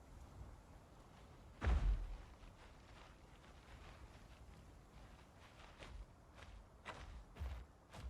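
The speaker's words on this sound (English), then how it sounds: "Imagine if that was the track, those footsteps we just heard." Footsteps from a dinosaur in the Path of Titans video game land as faint, scattered thuds over a low ambient background, with one heavier, louder step near the start.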